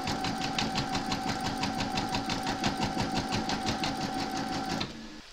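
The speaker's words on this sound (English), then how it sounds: "you're going to stitch round number one, and that's going to give you your placement outline for your batting" An embroidery machine stitches a placement outline for batting on a Christmas bauble ornament card, a loud, fast, even mechanical whirr of rapid needle strokes that stops abruptly just before the end.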